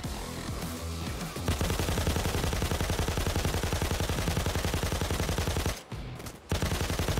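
Sustained automatic machine gun fire in a video game bank robbery, a rapid steady rattle of shots lasting several seconds with a brief pause near the end before resuming, loud and close.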